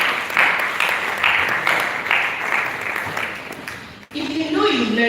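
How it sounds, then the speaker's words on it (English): Audience applause for the panelists at a slum and rural health initiative event, a dense wash of clapping for about four seconds that cuts off abruptly, followed by a voice speaking. "Round of applause for the panelists,"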